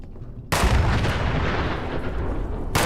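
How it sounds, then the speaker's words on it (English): A Nuka Quantum grenade detonating in Fallout 76, a sudden loud blast after a short quiet lead-in, followed by a long roaring rumble that tails off, with a second burst starting at the end. "Let's try one of our new Nuka Quantum grenades."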